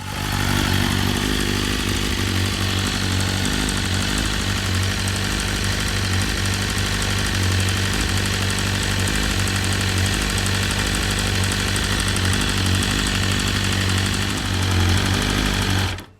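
A BMW S1000RR sport bike engine runs steadily after an oil and filter change, a loud, close, continuous throb with a faint mechanical rattle, holding an even pitch throughout with no talk.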